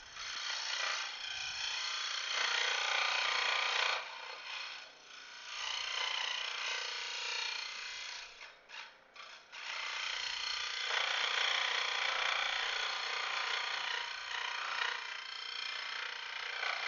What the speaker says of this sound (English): really the scroll saw is the way you want to go